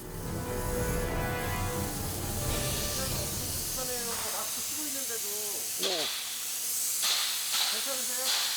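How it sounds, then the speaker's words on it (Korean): Spray foam insulation is blasted onto a mobile timber house inside a factory, giving a loud, steady hiss that runs throughout while a voice speaks over it. "분사된 폼 입자가 시야를 방해하는 것도 모자라 탄산가스 때문에 호흡도 쉽지 않은 상황."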